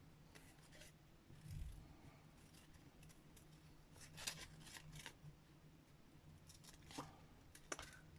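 Paper being cut out with a few scissor snips and crisp rustles of paper at a craft desk, quiet and close with pauses between cuts, no talk.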